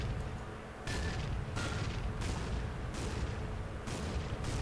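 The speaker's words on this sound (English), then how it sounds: "I added some physics to the main gun and shooting" An APC Puma's main gun fires in a driveable vehicle mod for a video game, giving four or five evenly spaced, faint booming shots over a steady low engine rumble.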